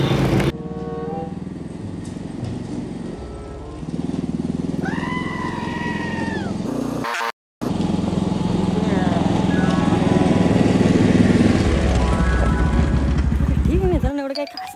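A motorcycle engine drones loudly and continuously while riding fast, with a brief cut partway through, and voices can be heard over it.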